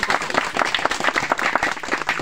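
An audience at a felicitation ceremony for the Odisha Chief Minister applauds, a dense, steady round of clapping from many hands, close and sustained across the moment.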